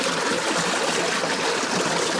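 Creek water at a restored 1930s trout hatchery rushes and trickles in a steady, close, fairly loud stream with no pauses.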